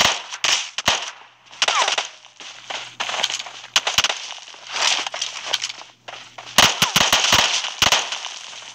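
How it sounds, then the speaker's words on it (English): Shotgun fire in the mobile battle royale game PUBG Mobile, heard as a series of loud, sharp cracking bursts scattered across the stretch, with a tight cluster of rapid blasts near the end over a low steady hum. "three shots of shotgun"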